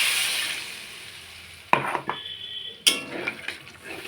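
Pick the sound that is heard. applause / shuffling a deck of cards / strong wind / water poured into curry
water poured into curry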